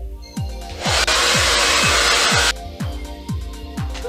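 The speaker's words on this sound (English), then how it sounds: "now I'm gonna blow it dry." A hair dryer blowing hair dry during a keratin smoothing treatment gives a loud, steady rush of air for about a second and a half, then cuts off under a repeating rhythmic musical pattern.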